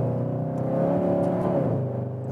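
Skoda Octavia RS with a 245 hp TSI engine accelerates hard in a low gear on a wet road, a close, steady rising drone with no speech over it.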